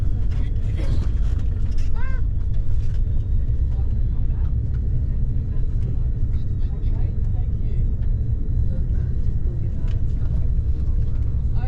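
A tour bus driving on Waiheke Island, New Zealand, heard from inside as a steady low engine and road rumble throughout, with people talking faintly over it.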